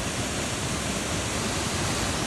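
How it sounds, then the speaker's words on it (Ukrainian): The Yurchyn waterfall in the mountains gives a loud, steady roar of falling water, broadband and unbroken, close by with no other sounds. "І ще один класний водоспад, який називається Юрчин"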